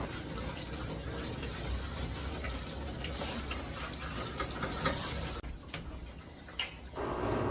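Running water splashes and pours steadily as a small Pomeranian dog is wetted before an oatmeal shampoo bath, then the flow briefly drops to quieter trickles before resuming.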